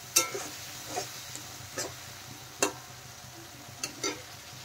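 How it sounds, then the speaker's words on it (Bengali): A spice paste of ginger, cumin and green chilli sautés in a pan for fish curry with cauliflower, a soft sizzle running under several sharp clicks of a spatula stirring against the pan. "এখন ভালোভাবে আমি কষিয়ে নেব।"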